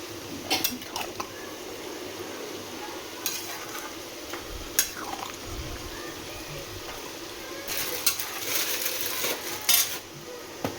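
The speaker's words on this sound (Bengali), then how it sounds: "দাঁড়াও একটু নেড়ে নিয়ে" Milk chicken with potatoes being stirred in a pan, with scraping utensil strokes and clinks of metal against the pan over a soft steady sizzle, in bursts separated by quieter stretches.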